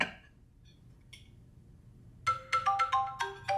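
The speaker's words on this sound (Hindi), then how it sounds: "इसका फोन है।" A phone ringtone plays a bright repeating electronic melody in several quick bursts, fairly close, after a few seconds of near silence.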